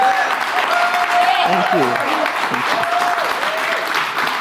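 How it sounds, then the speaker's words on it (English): Congregation at a Sunday celebration service applauds a leadership award, a steady wash of clapping running throughout with a voice speaking over it partway through. "So let's give a warm round of applause."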